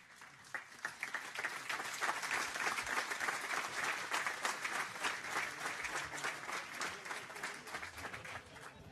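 An audience at a Portuguese municipal gathering breaks into sustained applause, a dense even patter of many hands heard from a moderate distance that swells and then tapers off.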